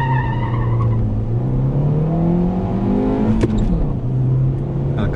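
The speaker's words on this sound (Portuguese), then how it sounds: "Ela canta muito pneu, cara." An armored Fiat Strada 1.8 pickup accelerates hard from a standstill, its engine revving up through a rising whine while the tires squeal loudly and continuously close by.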